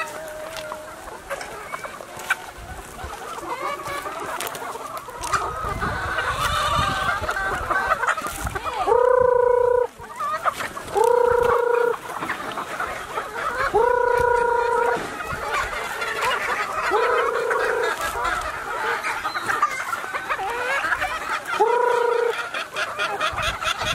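Breeding hens at a game farm cluck and call repeatedly in a range area, with several loud, close, tonal calls rising above steady background clucking and farm noise.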